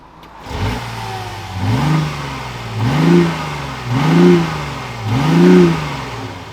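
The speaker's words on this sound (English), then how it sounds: "I'm actually gonna have you guys hear the exhaust" A BMW i8 sports car engine idles, then revs up four times in a steady rhythm, each throaty exhaust swell rising and falling, close and loud.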